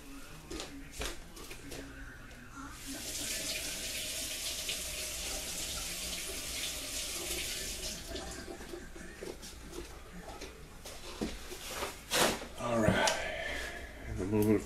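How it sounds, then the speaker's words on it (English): Cold tap water pours steadily over boiled peanuts in a sink for several seconds, with clatter and handling noises before and after and some talk underneath. "You got to run this under cold water to cool it off so you can try it."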